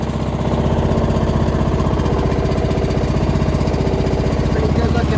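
A Troy-Bilt Bronco lawn mower engine, serial year 2006, runs steadily at idle after starting without choke, a loud, close, even putter with a regular pulsing beat throughout.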